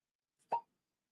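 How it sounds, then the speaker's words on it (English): A single short pop as the cork is pulled from a wax-sealed Blanton's Single Barrel bourbon bottle, fairly soft and muted, preceded by a faint tick and standing alone in a quiet room. "Go for a cork pop."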